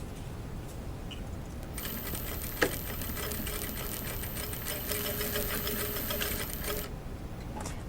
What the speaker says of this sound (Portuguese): Agora eu vou passar aqui, ó, mais uma costurinha na parte aqui mais de cima.